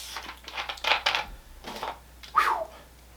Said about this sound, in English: Let me get a little more soda in here.